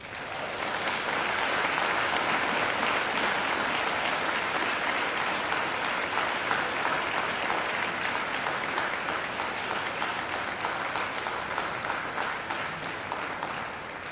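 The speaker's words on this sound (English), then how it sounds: "And now I invite you to give them a mighty round of applause." A graduation ceremony audience applauds its graduates, dense sustained clapping from a large crowd that fills the hall steadily for about fourteen seconds.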